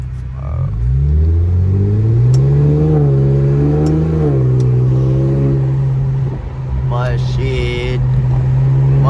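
Straight-piped Infiniti Q50 making a hard pull, a loud raspy exhaust roar that climbs in pitch through revs, holds a steady drone, then briefly dips and surges again near the end, with voices talking over it.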